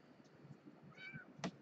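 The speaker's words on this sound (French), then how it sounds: "Miaou." A cat meowing once, short and faint, near a quiet indoor workbench where electronic kits are being assembled, followed by a brief knock.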